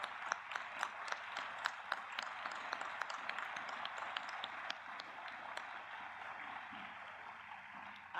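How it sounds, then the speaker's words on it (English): Sustained round of applause from a seated commencement crowd at a college graduation ceremony, steady dense clapping at moderate distance that continues evenly throughout. "so that we can give you a round of applause?"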